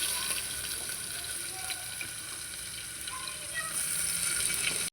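Chopped onion fries in hot mustard oil in a pressure cooker, giving a steady, even sizzle with a bright hiss that holds at a constant level throughout. No one speaks over it.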